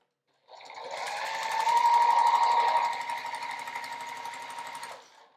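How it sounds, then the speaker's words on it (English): A sewing machine stitches quilt blocks together into a row, a steady rapid mechanical hum and clatter running for about four and a half seconds, close and alone. "I'm just gonna keep adding on the next block in the row and sew it together"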